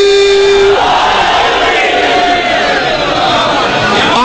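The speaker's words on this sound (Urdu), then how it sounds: "مل کے نعرے" At a religious gathering in Lahore, a large audience chants a slogan together in unison, a loud, sustained roar of many voices rising with a drawn-out call, close and dense throughout.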